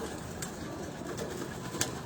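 A rooftop pigeon coos softly in the background, faint and brief, with a couple of small sharp sounds nearby.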